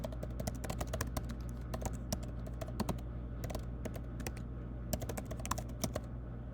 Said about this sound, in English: Going to type in my email address